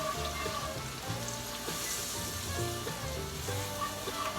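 Flour browns in hot grease with a steady, close crackling sizzle that holds evenly throughout, with no voices.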